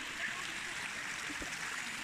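Steady rushing of a flowing stream, broadband and continuous throughout, close by with no other sounds standing out.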